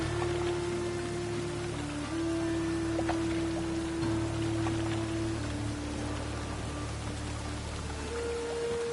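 Rain in a video game (The Witcher) patters evenly and constantly beneath a soft, sustained musical drone, with no voices.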